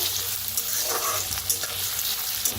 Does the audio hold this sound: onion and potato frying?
yes